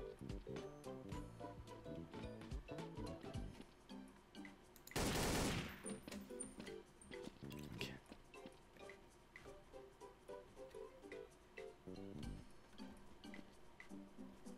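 Gunfire warning shots in the video game TTT, rapid repeated loud cracks forming dense fusillade bursts over a busy game soundscape with one harsh noisy blast midway.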